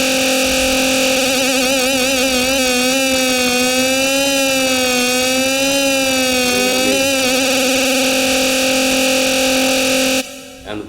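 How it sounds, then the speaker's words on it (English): A sustained synth lead in Ableton, its pitch wobbling fast with quick LFO vibrato on the oscillator fine tune, plays loud and alone for about ten seconds before cutting off. "you make LFO and just like 1/64 rate, so like really quick, like, and you just throw this on your fine tune of your oscillator and it sounds like this."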